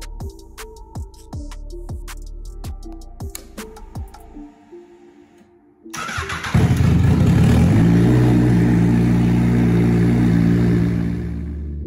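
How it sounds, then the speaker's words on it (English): A 2019 Honda CBR1000RR sportbike being rebuilt after a wreck cranks with a rhythmic starter chug, then fires up into a loud, steady idle close by, with no talking. "I put new fuel in it, more fuel, and it primed the pump way better, so it actually fired up"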